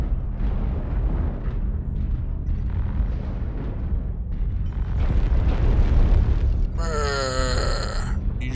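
A deep, rumbling explosion erupts as a building is shot in MechWarrior Online, a long heavy roar that swells midway, followed by a bright, warbling electronic tone near the end.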